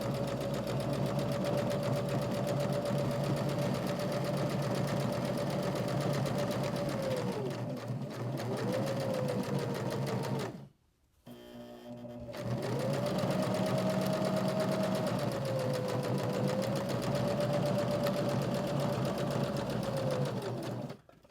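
A sewing machine runs steadily while stitching a fabric journal cover, a close, continuous motor hum with a rapid needle patter that dips briefly, stops for about a second, then resumes at full speed.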